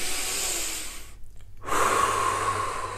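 A person takes a slow, deep breath, first a long inhale, then a brief pause, then a full exhale, heard close and alone.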